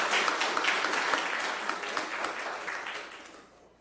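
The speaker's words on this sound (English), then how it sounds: "I ask you to join me in giving them a round of applause" Audience applause at an international law moot competition awards ceremony, a dense steady patter of many hands clapping that gradually fades out near the end.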